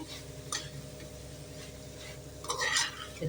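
Chopped onions and tomatoes sauté in a pan with a low, quiet sizzle under a steady background hum, broken by a few soft scrapes and utensil clinks as they are stirred.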